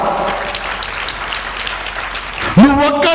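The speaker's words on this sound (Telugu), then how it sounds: "చప్పట్లు కొడదామా?" A church congregation at an LCF church service claps in a steady, fairly close wash of applause for a couple of seconds before a voice cuts in over the tail.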